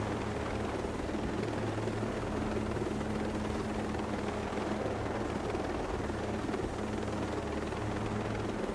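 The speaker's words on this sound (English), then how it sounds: "I'm glad I took a helicopter." A helicopter in Ghost Recon drones steadily with a constant thudding rotor hum and engine whine, loud and unchanging for the whole stretch, no talking.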